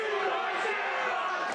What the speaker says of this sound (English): Crowd, I'm assuming behind the Stepdads in their chant.